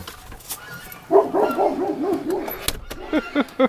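A dog barks and yips nearby in a few short bursts, with whining tones between them and some background noise.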